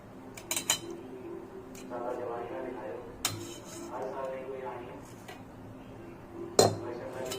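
Cream (malai) is stirred into onion masala in a pan with a utensil, giving faint scraping and a few light metallic clinks while someone talks over it.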